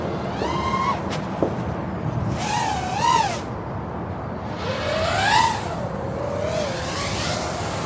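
Propellers on a 7 inch Cinelifter drone whir in flight, their pitch sweeping up and down as the craft maneuvers and passes, over steady background noise at moderate distance.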